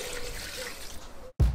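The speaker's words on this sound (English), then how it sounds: "We throw this into a bowl and fill it with water" Water running into a bowl holding a pork fat mesh: a brief, steady trickle with a faint tonal hiss, ending abruptly in a short gap and a low thump.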